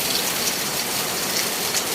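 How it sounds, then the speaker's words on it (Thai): Heavy rain pours down steadily in rural northeastern Thailand, a dense, loud, continuous hiss of drops striking surfaces with no pauses. "แต่ว่าฝนมาตก"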